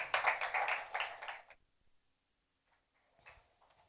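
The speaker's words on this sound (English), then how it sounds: "Round of applause to Luís." A small audience gives a speaker a brief round of applause at an event, a short burst of clapping lasting about a second and a half that stops abruptly, followed by near silence and a few faint knocks.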